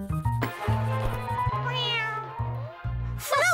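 A pet cat meows in a drawn-out, wavering call, followed by a brief second meow near the end, loud and close with no talk over it.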